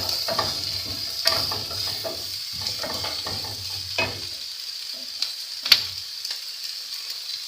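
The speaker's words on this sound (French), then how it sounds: "ça commence déjà à griller, vous voyez, c'est ça qui est génial sur le gaz" Onions frying in a pan on a gas stove, a steady sizzle with scattered clicks and scrapes as they are stirred, moderately close, fading lower toward the end with no talking.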